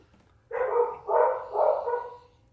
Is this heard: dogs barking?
yes